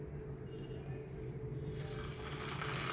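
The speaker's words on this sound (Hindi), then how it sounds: "अब हम यहाँ पर 1 चम्मच कॉर्नफ्लोर लेंगे, इसमें पानी ऐड करेंगे" Water is poured into a spoonful of cornflour for coating chicken shami kababs, a steady soft trickle over a constant kitchen hum that grows brighter and splashier in the second half.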